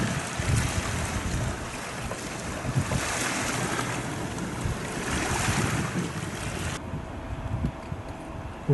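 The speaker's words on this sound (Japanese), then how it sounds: "漁港です。" Waves wash steadily against the shore at a fishing harbor near Katsurahama beach, Kurahashi Island, Japan, with gusts of wind buffeting the microphone, a continuous outdoor seaside roar.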